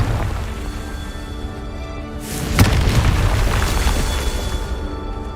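A deep booming blast from the Confringo spell in the video game Hogwarts Legacy, rising suddenly after a steady low hum and then rumbling on with a lingering roar.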